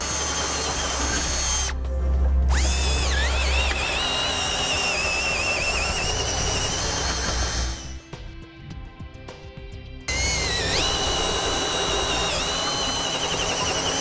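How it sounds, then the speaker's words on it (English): A loud power drill whines close by, drilling out attachment points on a 2014 Ford Fiesta for a base plate kit, running in long bursts with pitch rising and dipping as it bites, pausing briefly before starting again. "we'll need to drill out the 3 remaining attachment points"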